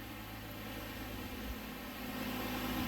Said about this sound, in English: Sorry about the fan.